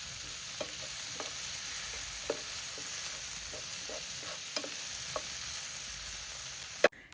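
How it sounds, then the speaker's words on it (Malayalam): Sautéed onion, capsicum and chopped tomato sizzle softly in a pan while a spoon stirs them, making a steady fry hiss punctuated by intermittent scraping taps, ending with a sharp knock, no voices. "ഒരു ചെറിയൊരു തക്കാളി ചെറുതായിട്ട് കട്ട് ചെയ്തിട്ട് അത് കൂടി ഇട്ടിട്ട് ഒന്നുകൂടി മിക്സ് ചെയ്തെടുക്കുന്നുണ്ട്"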